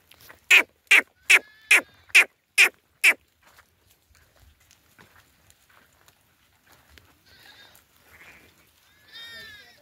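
Sheep in a shepherd's flock bleat in a rapid series of seven loud, evenly spaced calls, followed by quieter scattered rustling and a few fainter bleats near the end.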